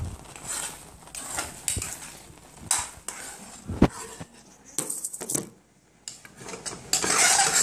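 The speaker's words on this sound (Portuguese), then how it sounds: "Vou mexer mais um pouco." A spoon stirs food in a pot, giving scattered scraping clinks and clatters of utensil on metal at uneven intervals, with quiet sizzling between them and no talk.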